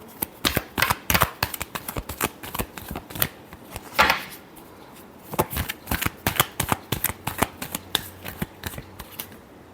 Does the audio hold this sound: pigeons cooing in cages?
no